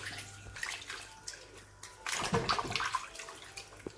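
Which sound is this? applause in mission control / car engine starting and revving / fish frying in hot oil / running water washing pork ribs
running water washing pork ribs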